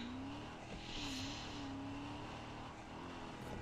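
A car in the video game Far Cry 6 drifts with a whining engine and a rising, falling tire squeal, faint and continuous under a steady hum, with no talking.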